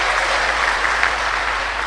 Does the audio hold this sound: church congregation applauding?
yes